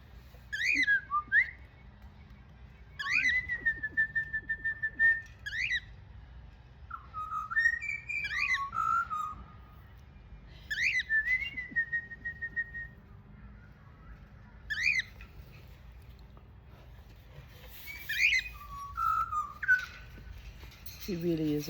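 An Indian myna bird repeats clear whistled phrases at intervals over a steady low outdoor rumble, moderately near and fairly prominent.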